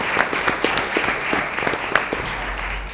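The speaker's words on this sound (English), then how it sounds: "Let's give them a big round of applause for all the performances tonight." A smaller audience applauds student performances at a school board of trustees meeting, individual hand claps clearly distinct within a moderate, uneven patter that tapers toward the end.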